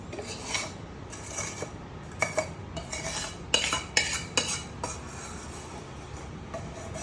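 Roasted mawa and semolina stirred together in a small metal pan with ghee, a spoon scraping and clinking in a steady run of close, uneven strokes, with no voices.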